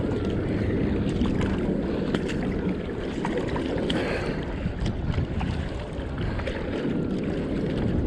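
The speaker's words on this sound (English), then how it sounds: "we'll just paddle out and back a bit for a bit of a warm-up" Surfski paddled out at Big Bay, Bloubergstrand, Cape Town, with a steady wash of water and heavy wind buffeting close by throughout and no talking.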